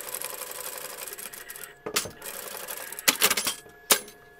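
A sewing machine stitches small doll clothes in close, whirring bursts with short pauses between runs, and no one speaks over it.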